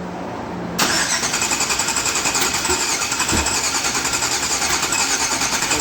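An LS-swapped Chevrolet K10 squarebody truck cranks and fires after a quiet moment, then settles into a loud, steady idle that runs on close by with no talking.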